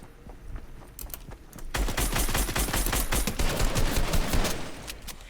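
Video game gunfire starts as a few scattered shots, then turns into a dense, close, rapid automatic volley that keeps going and slowly grows louder to the end.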